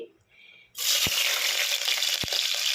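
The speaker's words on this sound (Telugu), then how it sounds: "నేను ఆనియన్స్ అనేది వేసేస్తున్నానండి. ఇది కొంచెం వేగాలండి. ఆనియన్స్ అనేది వేగుతుందండి." Chopped onions frying in hot oil inside a pressure cooker, a loud steady sizzle that bursts in after a quiet moment, with a couple of sharp clicks from stirring.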